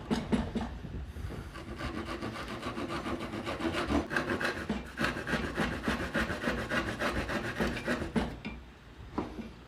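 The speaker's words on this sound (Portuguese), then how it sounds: "Então agora eu posso serrar até essa linha deitada, até a linha que está horizontal." A hand saw cuts wood for a dovetail joint, making steady back-and-forth rasping strokes in a regular rhythm, close and clear throughout with no talking.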